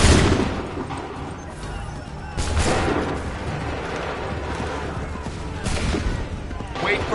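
A musket volley from redcoat-era soldiers in Assassin's Creed 3 erupts in loud booming bursts over a continuous rumble, with shouted commands around it.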